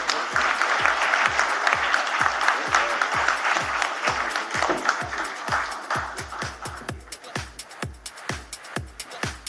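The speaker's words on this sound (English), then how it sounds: "please give a huge round of applause" Conference audience applause at the closing ceremony of the LAWASIA Conference 2023, a dense, even wash of clapping that thins toward the end into a few distinct, separate claps.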